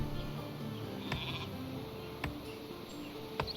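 Sheep bleating in the Viking strategy game Northgard, a few short nasal bleats rising over a steady bed of in-game ambience and music, with faint clicks scattered throughout.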